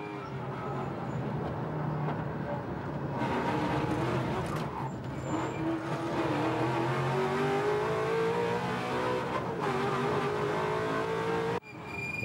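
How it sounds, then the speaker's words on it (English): A race car mounts a curb and spins its wheels, the engine roaring loudly and steadily with rising revs and a brief cut near the end. "the car hits the curb and the driver lets the wheels spin and correct itself"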